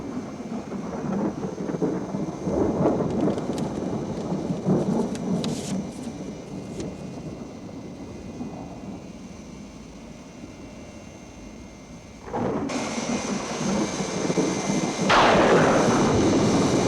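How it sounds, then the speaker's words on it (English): A thunderstorm rumbles around an aircraft in flight, with a steady roar of rain and wind and deep rolling thunder swelling, followed by a louder crackling burst near the end. "Is this storm likely to get any worse?"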